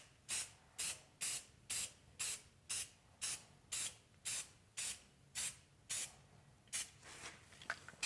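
A spray can, bought as a cheap deal and used on farm implements outdoors in cold weather, hisses in about twelve short, even bursts, loud and close, with brief pauses between, the last few bursts shorter and more ragged.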